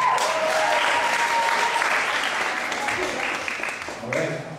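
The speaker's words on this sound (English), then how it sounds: "Let's have a round of applause for them." Audience applause at a high school teacher game show, a full and steady wash of many hands clapping that slowly tapers toward the end, with scattered voices over it.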